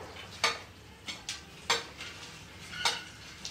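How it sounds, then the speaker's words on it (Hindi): Pakoras dropped into simmering kadhi in a home kitchen pot give a few sharp utensil clinks and soft splashes, spaced irregularly, close and fairly quiet. "अब पक गई है और अब इसमें डालते हैं पकौड़े"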